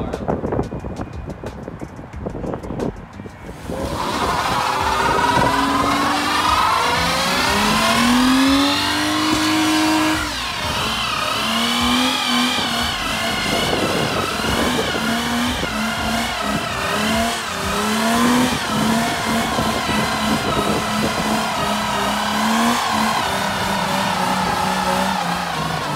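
A Nissan Skyline engine revs hard after a quiet start, climbing and falling through repeated sweeping pulls, loud and close with some wind buffeting.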